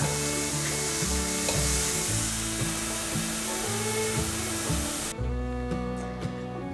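Yellow bell pepper stir-fried with seasoning in a hot pan, with a steady close sizzle and repeated scraping, stirring strokes running throughout and no talking.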